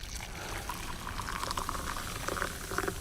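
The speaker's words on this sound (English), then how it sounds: "there's exactly measured 300 mils of boiling water" Exactly 300 ml of boiling water is poured into a container, a bubbling, gurgling splash that grows more active toward the end, close and moderately quiet.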